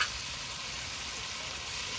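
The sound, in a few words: stirring hilsa fish in a pan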